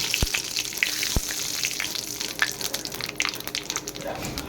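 Nigella seeds (kalo jeere) sizzling in hot oil, a close, steady crackle of frying punctuated by a couple of sharp clicks, with no talking.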